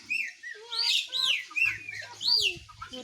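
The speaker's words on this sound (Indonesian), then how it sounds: "Tapi nggak tahu burung apa ya." Birds outdoors near a yard with a chicken, giving several close, bright chirps and whistled trills in short bursts, with a low hum underneath in the latter half.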